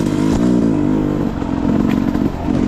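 A dirt bike motor runs on a trail, a loud, close, rough engine drone with a brief rev near the start and rattling clatter underneath, sustained for the whole few seconds.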